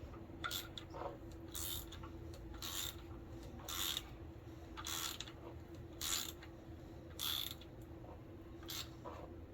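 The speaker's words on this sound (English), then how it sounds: "Just snug these bolts up nice and snug." Bolts on an LS-swapped Z31 300ZX being snugged up by hand with a wrench, a series of short ratcheting rasps in regular bursts over a low steady hum, close but quiet.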